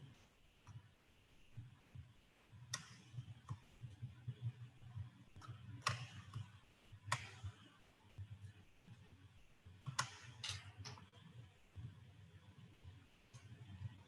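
Computer mouse clicks while an item is selected from a drop-down menu, sparse sharp ticks scattered at irregular intervals, close and fairly quiet over low background hum.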